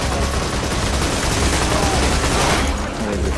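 Heavy, continuous covering fire in a Borderlands 2 co-op firefight, a loud, dense roar of overlapping shots and bursts that barely lets up.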